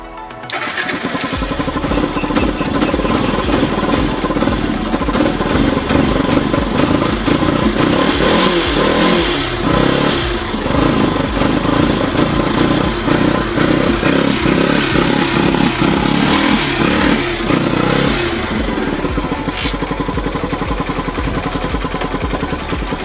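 An engine runs loud and close for over twenty seconds, a rough, clattering, motorcycle-like drone with a steady idle rhythm and slight rises in pitch, with no talk over it.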